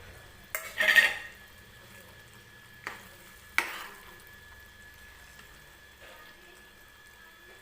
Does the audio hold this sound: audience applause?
no